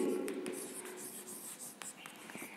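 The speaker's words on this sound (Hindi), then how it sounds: "लेकिन अगर मैं लिखती हूँ अभिजीत" Quick scratchy strokes of writing on a board during a classroom lesson, faint and close, in short bursts with brief pauses.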